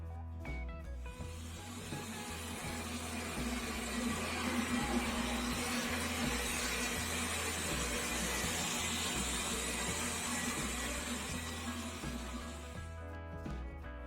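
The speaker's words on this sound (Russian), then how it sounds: "По шуму он работает, как самый обыкновенный пылесос." A Xiaomi Mi Robot Vacuum Cleaner 1S runs with a steady broadband whir and hiss, holding an even, moderate level throughout.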